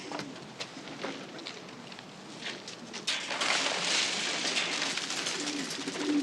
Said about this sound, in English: Come on, we gotta feed the birds.